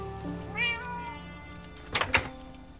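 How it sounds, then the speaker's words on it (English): A house cat gives a single clear, rising meow early on, followed by a couple of sharp knocks or thunks close by, with no talking. "Here, kitty, kitty, kitty."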